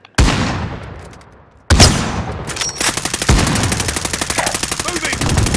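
Hostile gunfire in Call of Duty: Modern Warfare cracks out as a sharp shot with a long decaying echo, then a second blast followed by sustained rapid automatic bursts, loud and close throughout.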